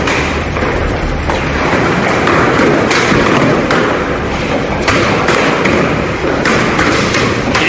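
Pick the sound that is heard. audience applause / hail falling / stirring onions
hail falling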